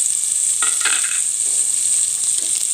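Onion and green chilli fry in hot oil with curry leaves, a loud, steady close sizzle with a few soft stirring scrapes.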